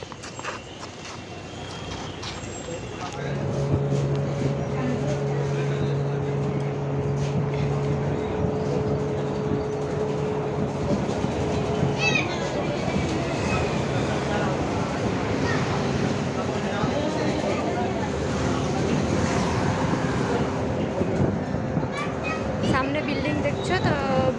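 Metro train rumbling through a tunnel beneath a building, a steady loud roar with a low sustained tone that builds after a few seconds and continues throughout, with faint voices underneath.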